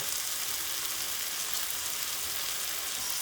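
Onion and tomatoes with oil frying in a pan for a spinach and tofu curry, a steady, even hiss of sizzling close up with no talk.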